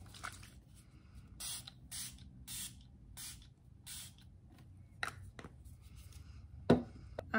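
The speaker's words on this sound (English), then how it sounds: "This is when I spray some more." Several short, quiet hissing bursts of a makeup spray mist, evenly spaced, followed by a few soft clicks and taps.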